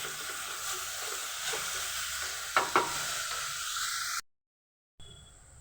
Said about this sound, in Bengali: চিকেনটাকে একটু সবজির সাথে ভেজে নেব